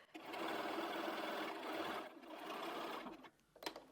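Sewing machine stitching a seam on fabric for a boat-block cushion, a close, quiet whirring run of stitches in two bursts with a brief pause between them, followed by soft handling clicks.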